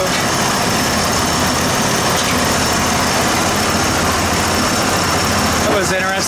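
A Ford F150 bullnose pickup truck engine idles steadily while warming up, a constant loud rumbling drone close by that fills the whole clip.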